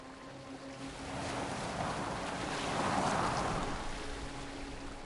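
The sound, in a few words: boat moving on water in video game Assassin's Creed Valhalla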